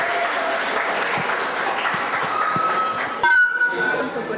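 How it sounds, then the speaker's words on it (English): Clapping from the audience at a school annual day as a young performer is cheered, a loud, continuous patter with a brief burst of other noise near the end. "Please clap for her."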